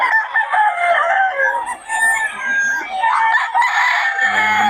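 Stag roosters, 11 months old, crow repeatedly and overlap one another, loud and close, with clucking between calls and no talk.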